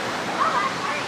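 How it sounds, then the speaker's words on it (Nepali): A waterfall reached at dusk gives a steady, close broadband roar of falling water that fills the whole moment, with faint traces of a voice under it. "फाइनली हाम्रो चाहिँ झरना पुगिले यी वाला झरना"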